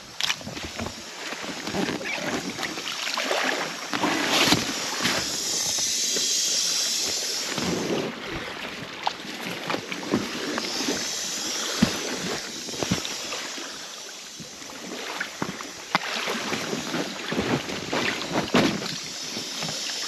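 A kayak pushes through wind-blown debris in a lake bay, giving rustling, splashing and scraping against the hull over a steady outdoor wind wash, continuous and close for about twenty seconds without speech.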